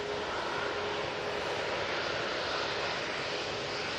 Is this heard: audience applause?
no